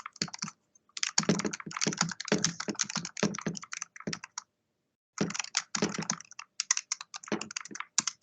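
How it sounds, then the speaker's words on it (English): Rapid clattering keystrokes on a computer keyboard in bursts during an online presentation call, with a short pause midway before the typing resumes, close and fairly quiet. "I can hear you typing, Michael."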